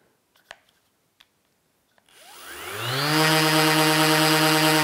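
A few light clicks and taps, then a Mirka-style orbital sander whirs up to full power and runs loud and steady with a high, buzzing whine.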